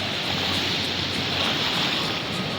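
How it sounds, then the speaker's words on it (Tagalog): Steady roaring surf in strong wind at Baler, heavy waves crashing continuously against rocks with a dense wash of noise, loud and close. "malakas kasi ang hangin, kaya ang alon yan medyo malakas"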